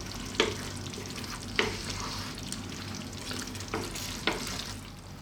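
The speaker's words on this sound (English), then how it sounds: "stirring all the time." Chicken korma sizzles steadily in a pan over low heat while a spoon stirs it, with several sharp scrapes and clacks of the utensil against the pan breaking through the continuous frying hiss; no talking.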